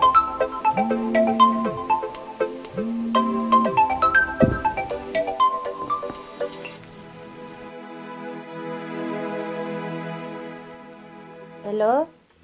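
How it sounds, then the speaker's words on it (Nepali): An electronic phone ringtone plays a repeated melodic pattern, followed by a sustained tonal passage and a brief rising chirp, during a phone call scene in a Nepali family drama. "पख, म एकचोटि पूजालाई आफै फोन गर्छु।"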